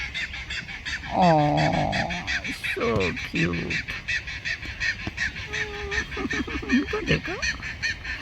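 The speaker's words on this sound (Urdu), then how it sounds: "یہ دیکھیں ان کی کتنی خوبصورت آواز ہے پرندوں کی یہاں" Birds, apparently geese or ducks, honk and call outdoors in a series of nasal, quavering cries spread across several seconds, with a person speaking softly over them and a constant hiss of background noise.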